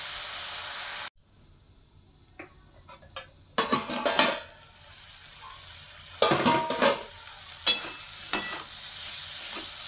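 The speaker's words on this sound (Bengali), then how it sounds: "সুন্দর করে বেশ লাল লাল করে একটু ভাজা হবে" Kalai greens fry in a pan with soft sizzling, broken up by bursts of spatula scraping and stirring against the metal at close range. Quieter stretches sit between the stirring, and no one speaks.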